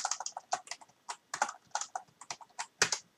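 Typing on a computer keyboard, a quiet run of distinct clicky keystrokes in an uneven rhythm, close and isolated with no talking.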